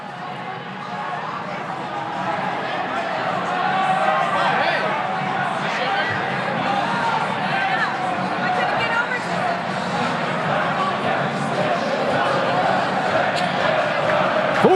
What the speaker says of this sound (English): Huge crowd here at Laurel, Maryland